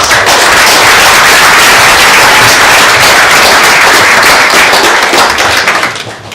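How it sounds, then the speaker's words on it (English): Wedding guests give a loud, dense round of applause for the best man at a reception, a steady wash of many hands close by that holds for several seconds before tapering off at the end. "Okay, so round of applause for the"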